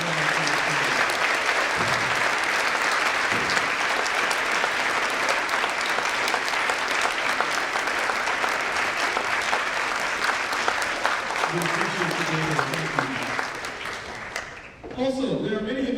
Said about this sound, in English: Please give them a applause.